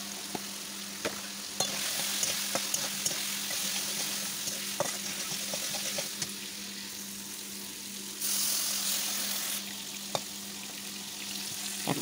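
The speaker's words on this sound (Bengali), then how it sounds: "এই সাইডে মাছগুলো আমি ভেজে নিচ্ছি" Fish pieces fry in a pan beside a simmering vegetable dish, giving a soft, constant sizzle with occasional light clinks of a utensil, fairly quiet and without talk.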